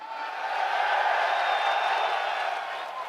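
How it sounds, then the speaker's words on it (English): A crowd at a UFC 314 press conference in Miami gives a sustained ovation, a broad wash of cheering and applause holding steady for about three seconds, dense and fairly loud, with no clear individual voices. "getting the ovation from this crowd right now"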